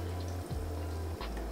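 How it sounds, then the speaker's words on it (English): Trader Joe's oat milk poured into a glass, a brief, close liquid trickle and fill lasting about a second and a half, with no talking. "Add our oat milk."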